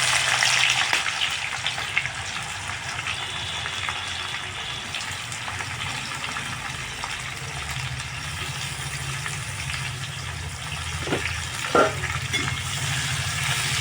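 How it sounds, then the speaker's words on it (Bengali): Chopped onion fries in oil with cardamom, cloves, cinnamon and bay leaves, giving a steady close sizzle and crackle throughout, with a few louder spits and pops near the end. "পেঁয়াজটাকে ভালো করে ভাজা ভাজা করে নেব।"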